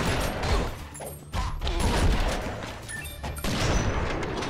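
Gunfire in the video game Mr. Shifty, a dense fusillade of repeated shots and booms filling the clip, loud and continuous with brief dips.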